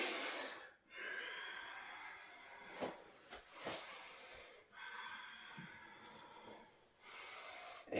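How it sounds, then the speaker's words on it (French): Quick, forceful breaths in and out during a yoga sequence, a run of rhythmic, breathy hisses and snorts close to the mic, fairly soft, without speech. "on va essayer de respirer plus rapidement"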